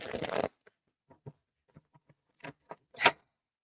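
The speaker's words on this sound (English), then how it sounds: "These cards do not want to shuffle for me." Soft, scattered flicks and riffles of playing cards, close and quiet, broken by pauses, with a short burst of rustling near the end.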